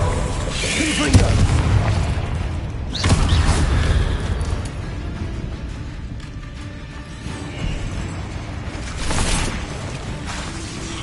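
Confringo fire-spell blasts in the Hogwarts Legacy video game, booming in repeated loud bursts amid dense battle noise and mechanical clatter, with a voice shouting over the fight.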